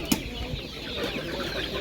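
Roosters at a market give a few faint, brief clucks amid steady crowd and market noise.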